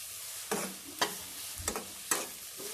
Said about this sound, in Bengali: তো আরও কিছুক্ষণ পেঁয়াজটা ভেজে নিচ্ছি